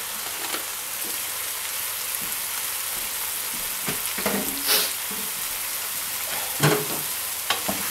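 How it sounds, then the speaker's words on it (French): Potatoes tumble into a pan of frying onions for tartiflette, setting off a steady hiss of sizzling fat with soft thuds and scraping stirs rising above it. "mes oignons sont translucides. On ajoute nos pommes de terre."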